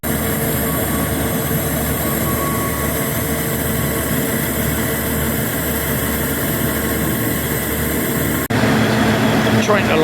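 Inside a passenger train running along the coast to Lagos, Portugal, a loud, steady rumble and roar of the carriage fills the whole stretch, shifting in tone near the end.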